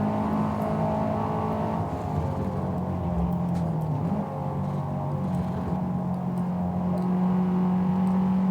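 A race car engine in the Forza Motorsport 2023 racing game drones continuously, its pitch rising and falling gently as the car accelerates and eases off, with no break in the engine note.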